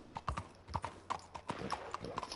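Horse hooves in Red Dead Redemption 2 Online: a rapid run of hollow clip-clop hoofbeats at an uneven galloping rhythm, fairly close and distinct, with faint speech in the background.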